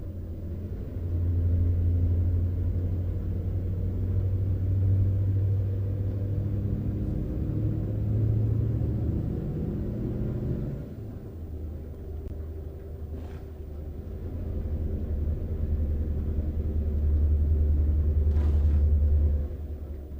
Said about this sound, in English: Wait, thunderstorm.